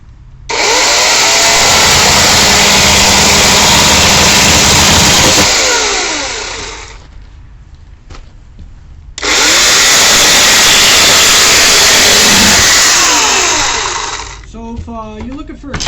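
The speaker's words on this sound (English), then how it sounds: "if you're looking for a chainsaw to do some ice sculpting" A loud Greenworks electric chainsaw runs in two long bursts, roughly five seconds each, separated by a quieter pause with faint handling sounds.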